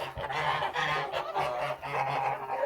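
A farmyard flock of Kholmogory geese honks repeatedly, several nasal calls overlapping in a steady, moderately loud chorus with no talking.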